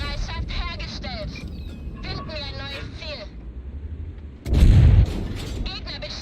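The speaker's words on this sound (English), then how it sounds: "I don't know how artillery can shoot us from here" A heavy artillery shell slams into a Leopard 1 tank in a tank battle video game, a deep loud boom about two-thirds through, after stretches of voices and game radio chatter over a rumbling engine.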